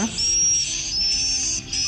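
A swiftlet call recording plays from the built-in memory of a Pyro MW88 swiftlet amplifier, giving repeated high thin chirping whistles in short bursts over a low background hum, fairly loud and near.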